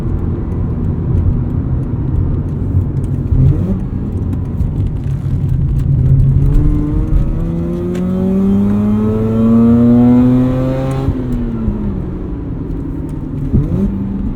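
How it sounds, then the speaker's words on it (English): A 2009 Mazda RX-8 rotary engine revving hard on the road, loud and close, climbing through the gears with rising whine, brief dips at shifts, then settling back. "you can rev this thing out to 9 grand all day long"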